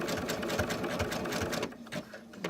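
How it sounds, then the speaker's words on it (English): A sewing machine stitches coiled rope into a bowl, its motor whirring steadily up close with a rapid needle rhythm, then slowing and dropping out near the end. "You gotta go backwards and reinforce it because your stitches are skipping."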